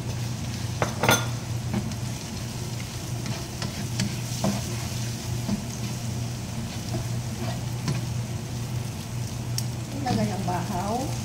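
Flaked dried fish and egg frying in a pan for fried rice give a steady close sizzle, with stirring scrapes of a utensil against the pan and a low hum underneath.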